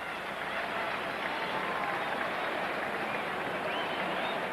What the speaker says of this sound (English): The applause for their coach, Kevin Sheedy.